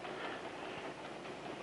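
A train runs on its rails with a steady, muffled rumble and faint clatter, heard at low volume as continuous background with no voices over it.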